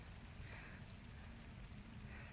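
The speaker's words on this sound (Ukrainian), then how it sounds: "Тільки й того, що чути все-таки, що якась волога капотить" Soft, steady patter of light rain with faint scattered drips, continuous and quiet, no voices.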